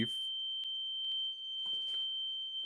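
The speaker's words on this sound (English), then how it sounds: "there's some very loud beeping happening in my room" A loud, steady high-pitched alarm tone sounds continuously, with a few short clicks and some faint background rustling.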